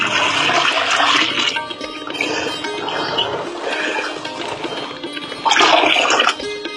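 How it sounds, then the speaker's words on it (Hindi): Two kilograms of gram flour dissolved in water is poured into a cow-based farming mixture, giving a continuous watery splashing and gushing with louder bursts at the start and near the end, with no talking. "बाद में डालते हैं हम चने का आटा 2 किलो, जिसमें पानी हमने घोल करके रखा है।"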